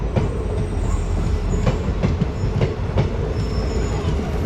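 The Rangiya Express rolls into Murkong Selek station on a single line, a loud, continuous rumble of wheels with rhythmic clicks and faint squeals, heard up close.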